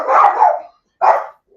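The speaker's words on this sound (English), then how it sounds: "I think my dogs are barking" A dog gives two sharp, loud barks close by, the first longer and the second shorter after a brief pause, with nothing else around them.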